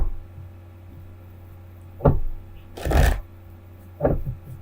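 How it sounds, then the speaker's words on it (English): Tarot cards are pulled and shuffled on a table in three short bursts of riffling and sliding, the middle burst loudest, with a low hum in the quiet stretches between them. "Just pull up all the cards here."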